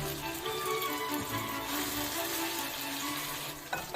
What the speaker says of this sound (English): Start by frying the meat.